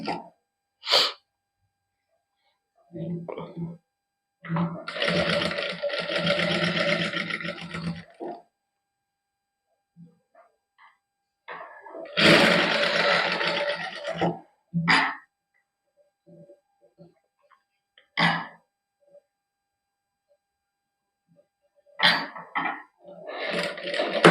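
A sewing machine stitching the neckline of a lined kameez runs in short bursts of a few seconds each, separated by quiet pauses and scattered clicks.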